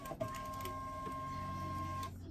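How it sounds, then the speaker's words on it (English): A thermal printer runs for about two seconds, a steady mechanical whir with a constant tone, starting and stopping cleanly in a quiet room. "turn on my thermal printer just to make sure it's gonna work"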